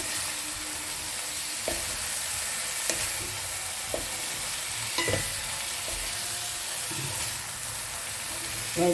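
Boiled cauliflower for phulkopi badshabhog frying in hot oil with a steady, dense sizzle and hiss throughout. Occasional stirring knocks and clacks of a utensil against the pan rise above it.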